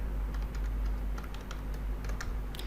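Keys tapping on a computer keyboard as code is typed, quick irregular clicks over a steady low hum, close and fairly clear.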